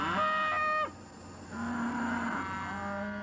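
Several cattle moo in long, drawn-out calls on a farm near Ponchatoula at night, one low bellow following another and overlapping, fairly close, with no talking.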